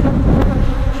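Honey bees buzz densely around an opened hive during maintenance, a loud, continuous close-up drone filling the whole moment with no speech.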